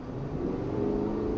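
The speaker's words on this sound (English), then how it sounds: "Not that I'm complaining much about the amazing V8 noise." A supercharged 6.2-liter V8 in a 2023 Cadillac Escalade-V rumbles with a steady, deep exhaust drone that swells slightly as it pulls, heard from inside the cabin without talk.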